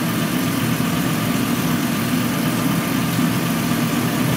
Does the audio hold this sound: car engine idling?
yes